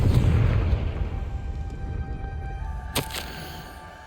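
A Confringo blasting spell in Hogwarts Legacy sets off a deep booming explosion that opens loud and decays over a few seconds, followed by a sharp burst of crackling debris near the end.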